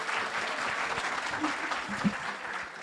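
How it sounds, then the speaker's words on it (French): Steady applause from a crowd fills the space at an engineering-school information event, with a voice briefly audible underneath. "Merci beaucoup Astrid, on peut l'applaudir très fort."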